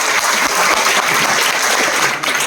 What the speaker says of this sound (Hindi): एक बार जोरदार तालियां उन सभी ड्रीमर्स के लिए